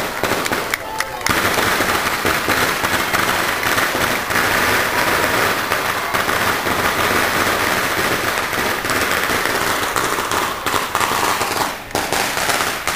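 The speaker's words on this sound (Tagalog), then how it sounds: "Fireworks para Jonas ito." Dense fireworks and firecrackers burst continuously in rapid crackling volleys, loud and close, set off at a celebration for a political candidate, with crowd noise and voices mixed underneath.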